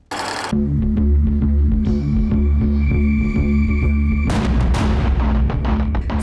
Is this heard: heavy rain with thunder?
no